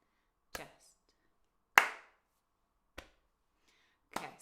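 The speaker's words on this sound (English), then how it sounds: "So you're just gonna do a chest slap and a clap." Body percussion in 4/4 time alternates a chest slap with a hand clap, four crisp, separate hits spaced about a second apart, with clean quiet gaps between them.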